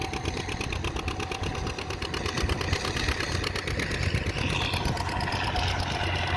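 A John Deere G tractor engine runs steadily at an outdoor plowing day, a continuous even idle with a rapid regular pulse, close and loud throughout, no talk over it.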